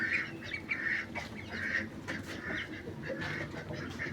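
A duck quacks repeatedly in short, uneven bursts, fairly close, over a low background hum, with no talking.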